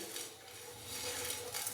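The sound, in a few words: dry roasting whole cumin and black pepper in pan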